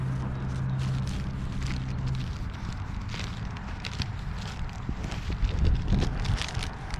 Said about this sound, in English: Man, it's a little windy today.